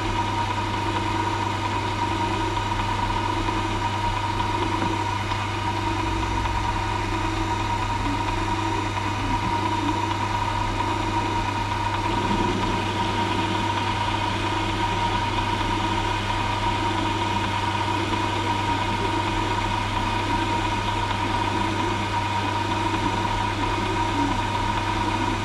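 A Velocette 500 engine and gearbox run on an electric roller starter, giving a steady, loud mechanical hum with constant vibration and some gear whine. The sound continues without a break, and no one talks.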